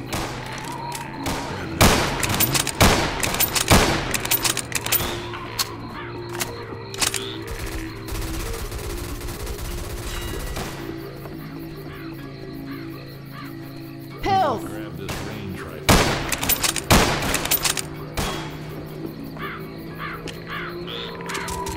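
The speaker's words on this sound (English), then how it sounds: "With that gun. You are shooting me!" Gunfire in Left 4 Dead 2 comes as scattered sharp cracks and short bursts among thuds and game noise, with people talking throughout.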